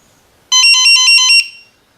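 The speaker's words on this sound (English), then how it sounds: "So the alarm's ringing." ISDT BG-8S battery checker sounding its cell imbalance alarm: a loud, bright electronic beeping burst of about seven rapid pulses lasting roughly a second, alone in quiet surroundings.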